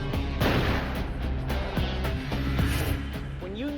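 Gunshots from a .44 Magnum revolver, several loud booming reports close together over dense background noise, with ringing tones trailing off at the end.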